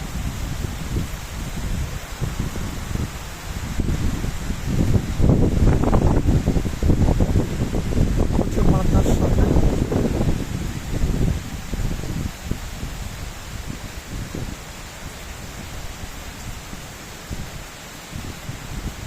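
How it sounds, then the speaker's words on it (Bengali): Wind gusts through rooftop mango trees on a rainy day, a broad rushing rustle that swells in the middle and then eases off, with heavy wind buffeting on the microphone. "আম গাছগুলো দুলতেছে ছাদের"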